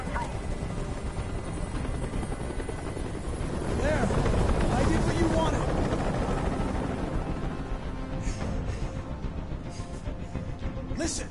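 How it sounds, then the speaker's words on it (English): A hovering helicopter in the video game Detroit: Become Human gives a steady, loud rotor roar that swells slightly mid-way and holds throughout. "I can't stand that noise anymore. Tell that helicopter to get out of here."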